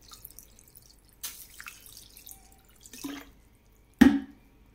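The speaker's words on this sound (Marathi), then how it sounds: "याची कुकिंग थांबवण्यासाठी याच्यावर आपण असं थंड पाणी टाकणार आहोत।" Cold water is poured over boiled noodles to stop them cooking for veg Hakka chowmein, giving soft trickles and drips that end in one sharper splash.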